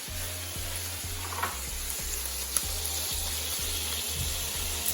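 Half an onion sizzles in a pot as the first step of cooking beans, giving a steady, close frying hiss with faint clinks and stirring noises throughout.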